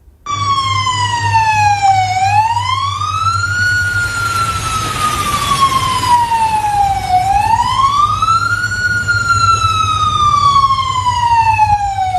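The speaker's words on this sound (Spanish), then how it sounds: "Vamos a escuchar cómo se escuchaban estas sirenas en Galápagos." A loud wailing earthquake alarm siren in the Galápagos rises and falls in long, slow sweeps, steady and alone over a low hum.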